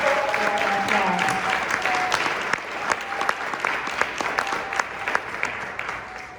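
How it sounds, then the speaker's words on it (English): An audience at a neighborhood association gathering breaks into sustained applause, a dense, even stretch of clapping that slowly thins toward the end, with a faint voice briefly audible at the start. "Let's just give them a round of applause."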